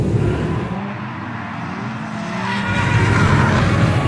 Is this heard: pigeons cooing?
no